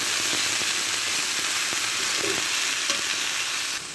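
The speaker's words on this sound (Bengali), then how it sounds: "উচ্ছের সাথে ডিম দিয়ে ভাজি হবে" Bitter gourd with fish roe, pumpkin and cucumber frying together in a pan, a loud, dense, continuous sizzle close up with a few faint stirring scrapes, no talking.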